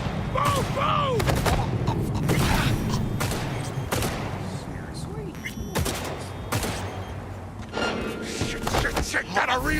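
Rapid bursts of automatic gunfire in the video game Cyberpunk 2077, loud and close, with scattered single shots, thuds and short pauses between volleys, while voices shout over the firefight.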